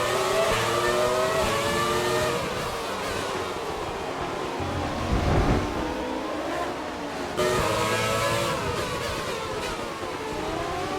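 Older F1 race cars, including a Benetton, roar around the track in the F1 2020 video game. Engines shift through rising and falling gears as they accelerate, and one car howls past in a sharp close swell.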